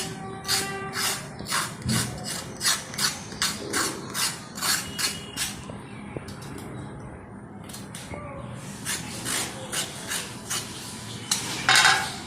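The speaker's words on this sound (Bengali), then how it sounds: "তো তার জন্য আমি চিচিঙ্গাগুলোকে এইভাবে কেটে নিই।" Snake gourd (chichinga) is chopped with a knife in a steady run of rhythmic cuts, roughly one per half second, close and fairly loud, with a brief pause midway before the chopping resumes.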